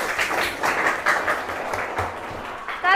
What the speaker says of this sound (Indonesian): Tepuk tangan buat Fahri